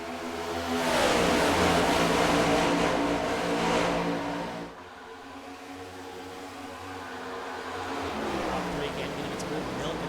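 Race cars in an ARCS racing video game roar off together at the green flag, engines rising in pitch as they accelerate, loud and continuous under a commentator's voice.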